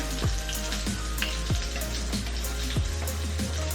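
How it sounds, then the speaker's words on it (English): A steak fries in a hot pan with a steady, close sizzle and scattered pops and crackles, with no talking. "I am just cooking a steak right now to see if maybe I'm hungry"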